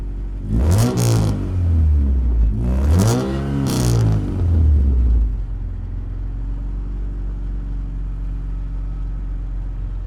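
A 1990s Honda Del Sol with a custom 3-inch straight-pipe exhaust and a MagnaFlow muffler revs hard twice, its deep note climbing and falling loud and close, then settles into a steady low idle.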